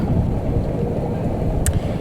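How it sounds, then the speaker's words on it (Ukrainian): Rain with large, cool drops falls on a vegetable garden where cabbage is being planted, a dense broad hiss with low rumbling close by, and a brief sharp crackle near the end. "Дощ пішов, краплі крупні, ой, прохолодні."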